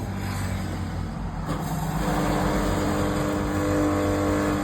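A weigher filling machine runs slowly after being started, giving a steady low mechanical hum and drone with a faint rise in level, close and continuous.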